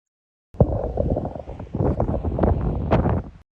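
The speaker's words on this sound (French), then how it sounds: "il y a tellement de vent, que le téléphone est tombé encore" Strong wind buffets a phone microphone outdoors, producing loud, close, irregular rumbling gusts and rustling bursts for about three seconds after a short silence.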